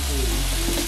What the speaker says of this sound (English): Get some of that sizzle action